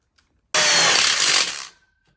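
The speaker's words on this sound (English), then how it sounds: "lock it in with the screws on the bottom" A power driver sinking a screw to lock outdoor kitchen frame tubes together, one loud, close burst of whirring lasting just over a second between short silences.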